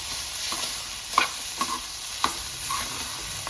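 Cabbage and grated coconut vegetable dish stirred in a pan, a few soft scrapes and light clicks of the spoon over a steady faint sizzle, with no voices.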